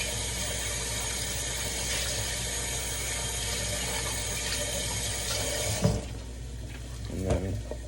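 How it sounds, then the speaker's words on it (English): Tap water gushes steadily from a kitchen faucet as vegetables for veggie wraps are rinsed, a close, continuous splashing rush that cuts off near the end, followed by a few faint handling sounds. "We'll rinse it again."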